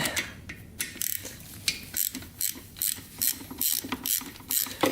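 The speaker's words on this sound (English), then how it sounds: "this reed cage has 1, 2, 3, 4, 5, 6 bolts. Just using the socket." A socket ratchet loosens the six bolts on the reed cage of a Honda CR250 dirt bike, with loud, close, rapid clicking in repeated bursts and brief gaps between strokes.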